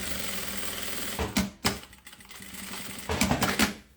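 Sewing machine running in two bursts while stitching a seam on a cube-shaped fabric toiletry bag, with a brief backstitch at the start; a steady rapid mechanical chatter, close and loud, with a pause between runs.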